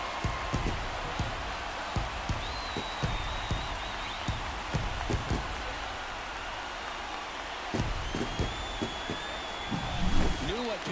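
A stadium crowd cheers in the MLB The Show 24 baseball video game at the All-Star Game. A steady roar of voices carries sharp claps and bangs throughout, with a commentator's voice in the mix.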